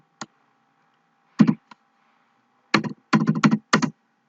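A computer keyboard is typed on in short bursts, first isolated clicks, then quick clustered keystrokes near the end, close and clear against a silent background.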